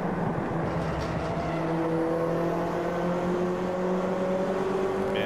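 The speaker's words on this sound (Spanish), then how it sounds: "Cómo se escucha el ruido de su coche." A steady engine whine with rising pitch from a race car accelerating in the Automobilista sim racing game at Laguna Seca, continuous and fairly loud throughout with no talking.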